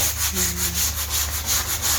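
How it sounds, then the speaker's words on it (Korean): Rhythmic back-and-forth rubbing of sandpaper on a water-swollen wooden bathroom door, close and steady, with regular strokes about every quarter second. "여기 층이 조금 있어서 사포로 층을 없애주고 있습니다"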